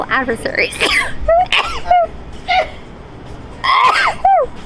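Sneezes burst out repeatedly, three of them, loud and close, breaking up a stretch of continuous talk with sharp, breathy bursts.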